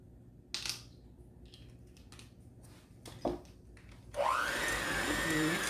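An electric mixer switches on and whirs steadily while mixing gluten-free Italian toffee thumbprint cookie dough, loud and close, after a few scattered kitchen clatters and knocks.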